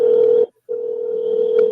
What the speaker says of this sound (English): He on the phone. I can hear it ringing double.